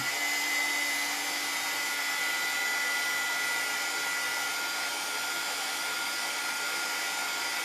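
A hair dryer blows steadily over a freshly painted section of artwork, a loud continuous whirring hiss with a faint tonal whine that holds level from start to finish, alone without speech.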